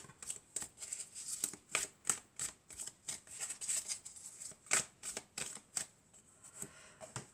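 Tarot cards shuffled by hand, a rapid run of crisp papery riffles and flicks in quick irregular succession, close but fairly soft, no talking.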